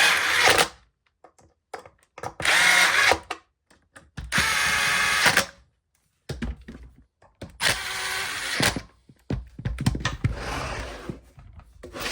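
A power drill unscrews a mounted part inside an RV, heard as several loud whirring bursts of a second or so each, separated by short pauses and light handling clatter.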